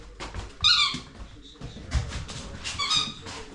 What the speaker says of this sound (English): Squeaky lemon.